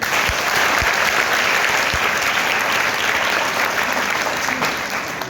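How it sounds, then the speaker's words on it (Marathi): Loud, sustained applause from a school audience for a teacher at a Marathi school one-person play event, dense clapping filling the whole stretch with a few low thumps. "या सरांसाठी एकदा जोरात टाळ्या"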